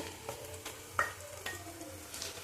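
Chicken added to a hot pan with green chillies for chicken tarka, a soft steady sizzle and frying hiss with light scraping stir strokes and small clinks, close up and fairly quiet, no talk.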